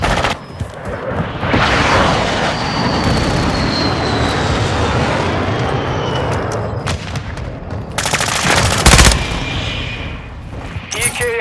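Call of Duty Modern Warfare II gameplay battle: dense, loud gunfire and rumbling explosions fill the whole stretch, with an aircraft drone passing overhead and sharper bursts of automatic fire near the end.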